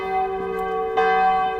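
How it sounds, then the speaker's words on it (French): Church bells ring at the entrance to a church, sustained resonant tones with a fresh strike near the middle, clear and fairly close with no talk. "Les cloches qui nous accueillent pour entrer dans l'église."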